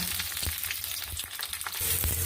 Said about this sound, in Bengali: মশলাটা ভাজার জন্য আগে তেলে গোটা রসুন দিয়ে দিলাম তারপরে পেঁয়াজ কুচি দিচ্ছি